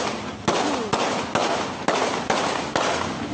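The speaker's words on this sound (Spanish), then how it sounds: "se captó el momento en el que fue atacado a disparos" Six sharp gunshots ring out at fairly even intervals, each a loud crack over a continuous rushing background noise, from an armed attack on a man.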